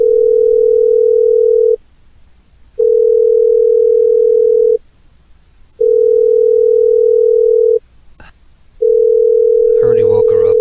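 A telephone line rings out unanswered in long, loud, steady tone bursts separated by short gaps, with a voice beginning to speak over the final tone.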